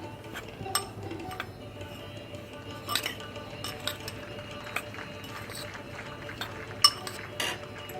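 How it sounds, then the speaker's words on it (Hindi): Dry pickle masala of hing, methi powder, yellow mustard seeds, saunf and salt is mixed in a bowl for lotus stem pickle, giving scattered light spoon clinks and scrapes over a low steady background hum. "इसको मिक्स कर लेंगे"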